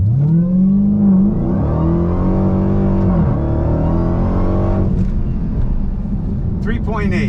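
Dodge Challenger Hellcat Redeye Super Stock automatic launching in a 0-60 run, engine roaring loud and rising steadily in pitch, dropping briefly at a shift near three seconds, then pulling hard again before a short break in the tone.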